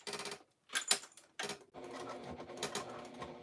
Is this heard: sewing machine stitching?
yes